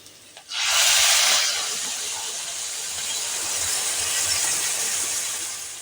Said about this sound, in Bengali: আমি এর মধ্যে গরম জল ঢেলে দেব।